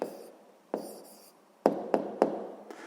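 A pen writes a maths answer on paper, giving a few short, close scratching strokes and taps separated by brief pauses, faint and without talk.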